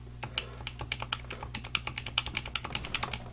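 Rapid, light plastic button clicks from a Raspberry Pi handheld game console's controller, tapping in an irregular rhythm, close and fairly quiet.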